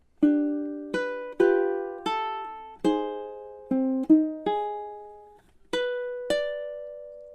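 A plucked ukulele plays a slow, simple melody, about a dozen clear notes each ringing out and decaying before the next.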